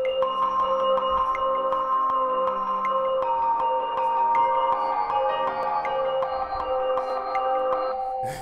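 Bell tones arpeggiated in ARP mode on Maschine form a slow, sad melody of soft, sustained, shimmering notes that ring over one another at a gentle, steady pace.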